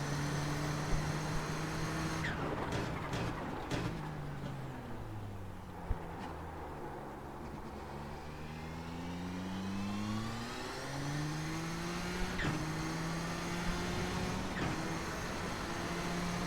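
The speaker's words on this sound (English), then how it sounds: "Just tons of power, let the engine rev out for all it's worth." The Nissan GTP ZX-T race car's engine in the iRacing video game revs out repeatedly, pitch sweeping up through the gears with brief shift dips, loud and continuous with no talk.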